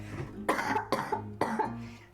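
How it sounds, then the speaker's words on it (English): One person coughs four times in quick succession, close to the microphone and at low volume, while recovering from an illness. Each cough is short and raspy, with brief pauses between them. "I apologize for intermittent coughing."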